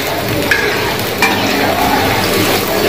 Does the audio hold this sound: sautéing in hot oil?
yes